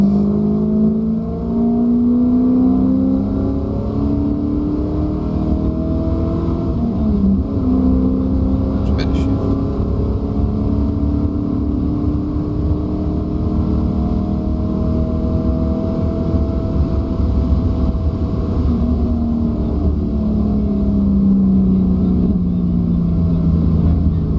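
A race car runs at full throttle around a track, heard from inside the cockpit as a loud, continuous engine drone whose pitch rises and falls through gear changes, with the driver talking over it.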